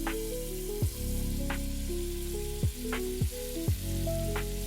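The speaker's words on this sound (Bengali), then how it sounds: "এই সবকিছু দিয়ে এবার আমি বাদামগুলোকে ভালো করে লাল লাল করে ভাজবো" Peanuts and chopped almonds fry in a pan with green chilli for Bengali chirer polao, giving a steady close sizzle broken by a few sharp stirring scrapes.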